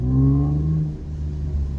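An Infiniti Q60 with a new aftermarket exhaust modification revs, a low throaty rumble with a rising then falling engine tone, close and loud with no talking.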